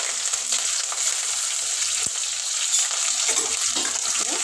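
Onions, green chillies, cinnamon and curry leaves frying in a hot pan for Sunday chicken curry, a soft steady sizzle with a few faint stirring scrapes and one sharp click.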